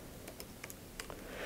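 A computer keyboard is typed on while coding a bot, with a few quick, light key clicks spaced irregularly over a steady background hiss, close but faint.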